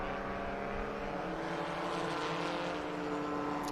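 Spridget race cars rolling past at Barber circuit in a steady, droning engine roar with layered harmonic tones, continuous and fairly loud throughout, no talk.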